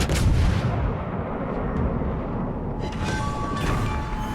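Heavy battleship guns on the Nikolai I firing in a World of Warships Legends naval battle, a loud booming blast at the start followed by a sustained rumbling roar with a few sharper reports later on.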